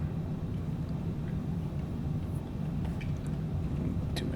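In Flight Simulator 2020, an airplane's engine sends a steady, dense low rumble through its takeoff roll, alone and constant, with faint higher clicks near the end.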